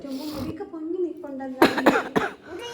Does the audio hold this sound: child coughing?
yes